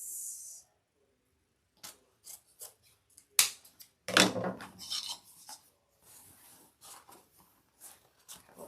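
Scissors snip through thick silk hair ribbon in a few separate bursts, with quiet pauses between the sharp, close cuts.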